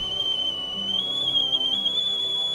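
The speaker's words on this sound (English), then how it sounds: "The tea whistles." Tea kettle whistling on the fire, a steady piercing single-pitched tone that wavers slightly and holds for the whole stretch, clear and fairly close with no talk over it.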